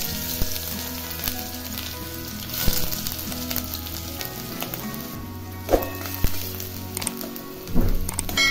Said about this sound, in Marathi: आता तेल गरम झालं की मोहरी टाकायची आहे, अर्धा चमचा मोहरी टाकायची आहे।